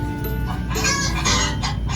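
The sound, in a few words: rooster sound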